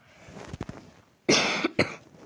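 A few soft throat sounds, then two sharp, loud coughs close to the microphone.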